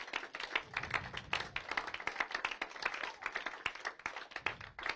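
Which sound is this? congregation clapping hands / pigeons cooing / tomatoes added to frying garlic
congregation clapping hands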